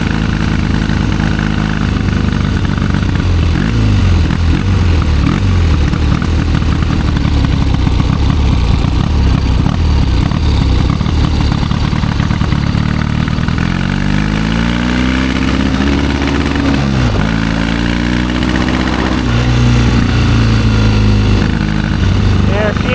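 A 1972 Triumph 650 Bonneville twin idles and revs roughly, close and loud, its engine note breaking up and climbing unevenly through several blips while someone talks over it.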